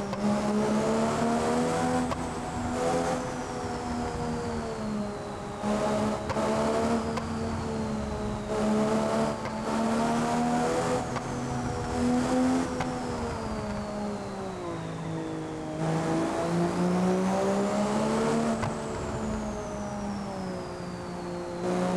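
A car in BeamNG.drive winds along the twisting mountain road Tail of the Dragon, its engine droning steadily and swelling and dipping with each bend, with tyres squealing now and then.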